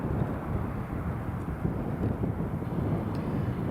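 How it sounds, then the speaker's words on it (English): An Airbus A350 passes an airport, heard as a continuous low broadband roar with a wind-blown rumble, steady and fairly loud throughout. "The beautiful Airbus A350."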